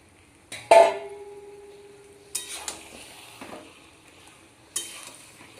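Mutton is tipped into fried onions in a pan and stirred, giving a sharp metallic clank, a soft sizzle and a few more spatula scrapes and knocks spaced apart in a quiet kitchen.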